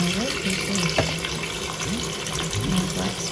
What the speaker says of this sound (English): I really don't want to keep the water running